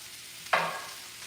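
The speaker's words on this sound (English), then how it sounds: "I can hear the sizzling, so I'm going to just keep breaking it up." A brief burst of sizzling, like ravioli filling hitting a hot pan, swells and fades within a second against a quiet background.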